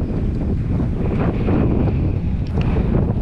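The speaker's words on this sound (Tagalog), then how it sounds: "Sarap ng hangin dito." Wind rushing steadily over the microphone while riding a bike across a bridge, a constant loud roaring buffet with no talk.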